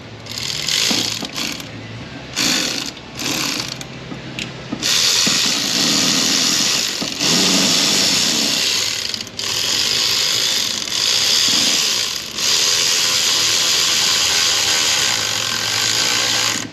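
A ratchet tightening a pipe clamp on an LB7 Duramax engine, loud close bursts of rapid clicking that run in short stops and starts, then longer stretches of ratcheting, with no talk.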